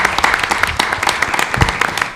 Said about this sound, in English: I'm going to ask that you all give them your blessings with an applause because they did so well.